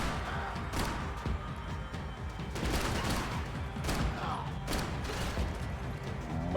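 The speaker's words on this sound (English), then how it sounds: "Gunfire over Hoboken." Gunfire in the video game Max Payne 3: a dense run of sharp, loud shots with rapid bursts and impacts, repeating irregularly across the whole stretch over a rumbling game background.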